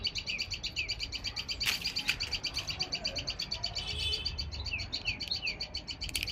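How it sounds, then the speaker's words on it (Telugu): Sparrow chicks just out of the nest call in a rooftop garden, a rapid, continuous stream of high chirps, fairly close and steady, with a few sharper notes standing out. "పిచ్చుకలు చూసారా చిన్న చిన్న పిల్లలు అనమాట అవి గూడులో నుంచి బయటకు వచ్చేసి అరుస్తున్నాయి"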